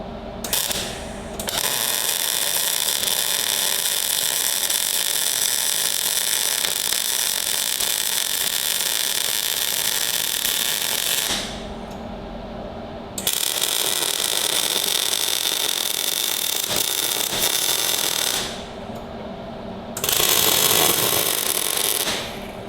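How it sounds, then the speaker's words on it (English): Mechanical whirring of a power tool driving bolts into a tractor workshop trolley in long bursts, with short pauses between runs and a final brief burst. "I should be able to bolt this together"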